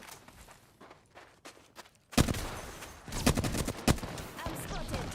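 Video game gunfire comes in sharp, close bursts and rapid volleys, with scuffling footstep-like sounds in between and faint voices in the background.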